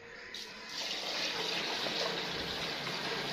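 Water poured from a bucket into a tank, a steady close gushing splash that starts abruptly and keeps going.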